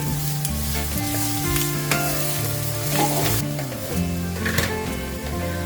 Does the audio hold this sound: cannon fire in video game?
no